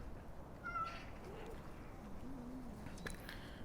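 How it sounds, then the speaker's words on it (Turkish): Several cats at an outdoor cat feeding spot give faint, distant meows over a constant background hiss, with a bird or two chirping nearby. "Gördüğümüz gibi bir kedi cenneti neredeyse her renk var."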